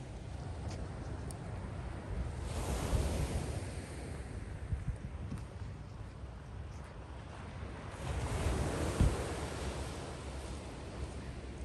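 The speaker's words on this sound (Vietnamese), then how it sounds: "nghe sóng biển dạt vào nha" Ocean waves wash ashore at Deception Pass strait in Washington State, a steady hiss of surf with two broader swells, under light wind buffeting the microphone and no talk.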